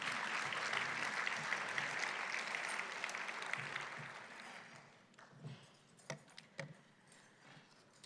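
A conference audience at a women-in-leadership talk claps together in a dense, steady burst of applause. It fades out after about five seconds, leaving a few scattered claps and faint room noise.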